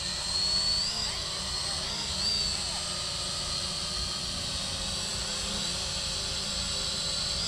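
An Eachine E511 drone flies against the wind, its high steady whine of small motors and propellers holding continuously, with broadband wind hiss and rumble beneath it.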